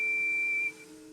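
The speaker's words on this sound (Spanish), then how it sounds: "De la nada dejé de escuchar a Perky, el cual me estaba silbando para que despertara" A steam train engine whistle gives one sustained, clear, steady tone lasting about two thirds of a second, then cuts off, leaving a low faint drone.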